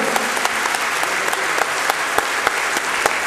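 An audience at a Hindi poetry recital gives a performer a loud send-off: dense, sustained clapping from a large crowd with sharp individual claps standing out, steady throughout.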